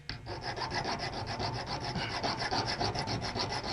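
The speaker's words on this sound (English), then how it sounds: "just file it down so that it's smooth" A hand file rasping over the sharp leftover ends of a piece after Dremel cutting, smoothing them with steady, rhythmic back-and-forth strokes, close and fairly quiet.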